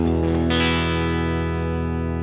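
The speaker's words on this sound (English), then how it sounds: "I want no distortion right now." A guitar played through an amp sim with heavy distortion, a loud sustained crunchy chord that rings out alone and slowly decays.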